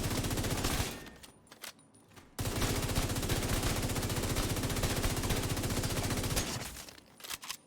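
Assault rifle fire in the video game The Division 2, a FAMAS build, loud rapid automatic bursts in two long strings separated by a short pause, close and alone.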